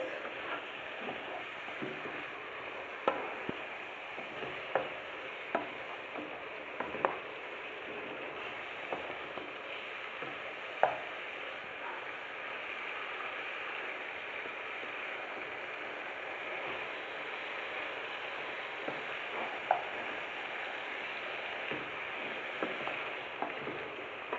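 Potato gratin with vegetables, courgette and chicken simmers in a pan with a soft, continuous sizzle and faint bubbling, broken by occasional small pops and clicks.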